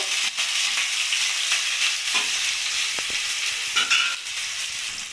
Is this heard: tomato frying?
yes